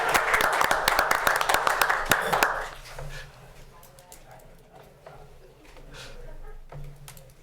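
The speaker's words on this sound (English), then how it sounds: "Another man who deserves applause," Audience applause at a Hamilton city council meeting, a dense burst of clapping for about two and a half seconds that cuts off abruptly, followed by quieter room noise and faint murmuring.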